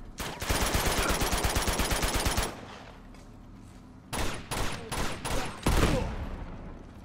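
Sustained machine-gun fire in the action game Uncharted 2, a long rapid rattle of shots followed after a pause by several separate loud bursts of gunfire, close and punchy.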